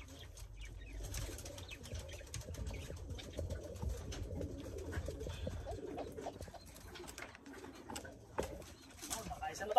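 Pigeons coo softly amid rustling and wing flaps in a loft where squabs are being fed, with someone talking over the birds throughout.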